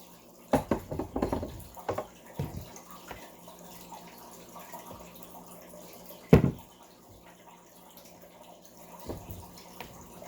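2005 Haiwan Organic Spring Tips raw puerh tea is poured off into a vessel in a few short splashing bursts, with quiet gaps and light drips between them.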